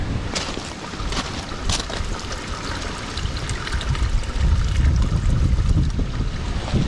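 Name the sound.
water draining and flowing in a flooded yard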